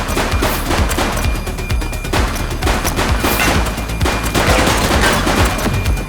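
Rapid bursts of automatic gunfire in the police video game The Precinct, loud and dense, rattling continuously through the whole stretch with no pauses or voices.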